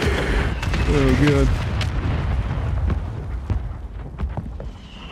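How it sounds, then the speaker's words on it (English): A mortar strike explodes in a multiplayer video game: a loud, rumbling blast rolls through, then a long crackling tail follows, with several players' voices talking over it. "I called the mortar."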